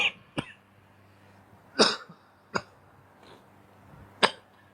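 A person coughing several times in short, sharp bursts spaced a second or so apart, close to the microphone with no talking.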